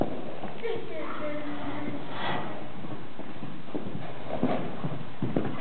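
A Friesian horse walking in an arena, its hooves giving a soft, irregular clip-clop under ongoing talk from people nearby.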